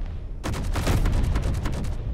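Cannons on an assault carrier in the space game Space Engineers fire a rapid, loud volley of repeated booming shots that starts abruptly and keeps pounding evenly to the end, with no talk over it.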